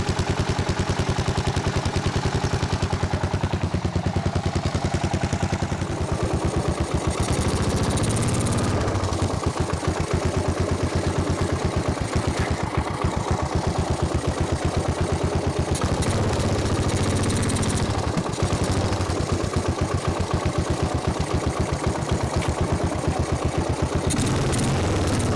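A 1995 Suzuki Savage 650 single-cylinder motorcycle, revived after thirteen years of sitting, idles with a carburetor idle problem: a loud, close, uneven chugging with rapid pulsing beats and slight shifts in pace, no voices.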